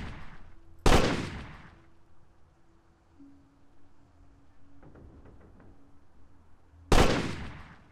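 Two loud, sharp sniper shots sound six seconds apart in the horror game Nightmare at the Lighthouse, each ringing out with a long decaying tail over a faint low ambient drone and soft scattered clicks.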